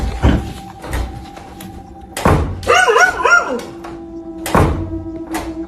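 Several loud, sharp barks from a nearby dog come in separate bursts, mixed with heavy thumps and a few higher yelping calls.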